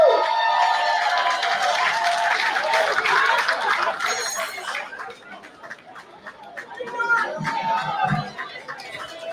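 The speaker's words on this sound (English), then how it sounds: "That's a louder round of applause, you know." Audience applause for Barry Biggs at a Black British heritage celebration, a sustained crowd roar with clapping and whoops for several seconds that thins toward the end amid murmuring voices.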